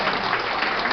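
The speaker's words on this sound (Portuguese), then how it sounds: "Salve de palmas para a Andressa, gente." A crowd claps continuously in a dense burst of applause at a contest award ceremony, steady and fairly loud throughout.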